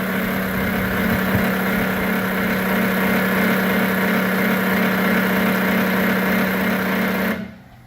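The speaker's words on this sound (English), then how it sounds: "And the pump's going to start running." An injection system pump runs with a steady, loud mechanical hum and whir for about seven seconds, then cuts off abruptly, leaving silence.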